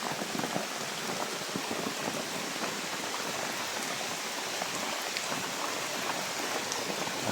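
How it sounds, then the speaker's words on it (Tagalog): Steady rain pours down outdoors, a dense even hiss of drops hitting surfaces, constant and fairly close throughout with no voices. "Ang ulan."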